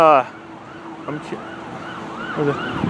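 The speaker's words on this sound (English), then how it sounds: "there's an ambulance down there coming this way" An ambulance siren wails in rising and falling sweeps on Jericho Turnpike, fairly distant and steady, with a brief voice at the start and light traffic rumble beneath.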